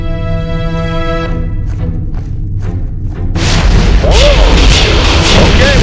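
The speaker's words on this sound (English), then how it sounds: "Proby ran into a flashover in the sporting goods store" Inside a burning sporting goods store at a shopping plaza in the game Real Heroes Firefighter, a flashover erupts: a sudden loud whooshing burst cuts through quieter tonal ambience, then becomes a sustained roaring blaze.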